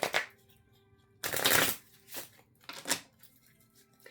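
Tarot cards are shuffled by hand in several short, crisp riffling bursts at close range, with quiet gaps between them and no speech.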